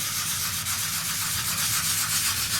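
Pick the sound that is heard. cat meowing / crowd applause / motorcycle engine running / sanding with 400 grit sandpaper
sanding with 400 grit sandpaper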